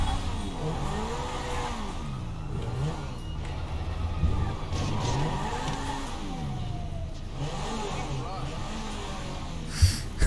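Car engine revving and accelerating in the video game GTA 5, rising and falling engine pitch in repeated sweeps with a couple of sharp knocks, while a person talks over it.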